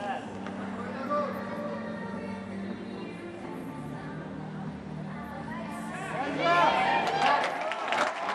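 A home crowd at the Tashkent World Challenge Cup gymnastics competition gives a steady murmur that swells into louder cheering and applause near the end, with a commentator talking throughout.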